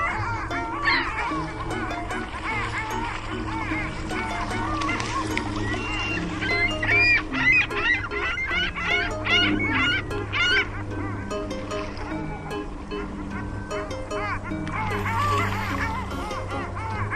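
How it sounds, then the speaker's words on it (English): Flamingo calls: a steady series of loud, goose-like honks and nasal squawks that repeat through the clip over a busy background of other birds. "Flamingo."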